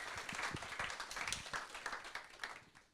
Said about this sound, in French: un tonnerre d'applaudissements pour l'application de Lucas